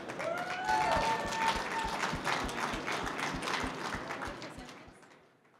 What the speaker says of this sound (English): a round of applause for Karthi from EarthN.